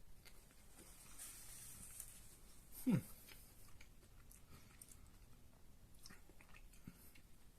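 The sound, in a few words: biting and chewing a red velvet frosted donut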